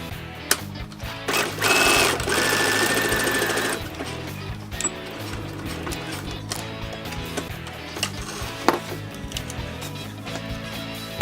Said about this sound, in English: run a few stitches